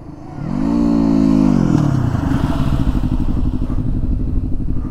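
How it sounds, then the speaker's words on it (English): Motorcycle engine on a ride, revving up to a loud rising whine, then settling into a rough, rumbling run close to the listener. "The bike sounded better."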